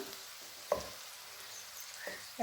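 Brinjal (eggplant) slices frying in coconut oil, giving a soft, steady sizzle with a few faint clicks and stirring taps, quiet and close, with no talking.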